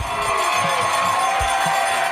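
Crowd noise fills the stands at a high school football game, a steady wash of cheering and shouting voices with occasional louder yells rising out of the roar.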